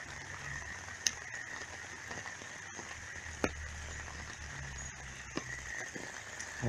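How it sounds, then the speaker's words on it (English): Heavy rain falls on a street in a steady, moderate hiss, broken by a few sharp drip or splash transients standing out near the listener. "So much rain one fucking day."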